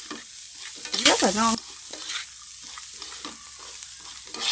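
Tofu fried with lemongrass and turmeric sizzles and crackles in a pan with stirring, a louder burst of activity near the start; a voice speaks briefly over the cooking.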